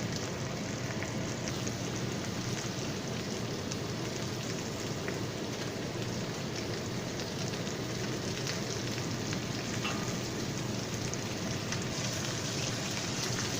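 Garlic and thyme fry in a pan while preparing spatchcock BBQ chicken and herb potatoes, a steady dense sizzle and crackle like rain, continuous and even throughout with no talking.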